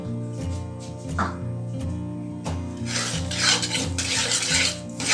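A spoon stirs sugar into homemade tomato sauce in a pan, scraping and swishing steadily and up close over a low steady hum, with the strokes growing busier and louder toward the end.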